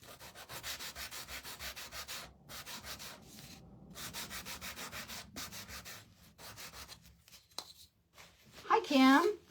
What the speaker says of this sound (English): Get the little wings. Sand it up here.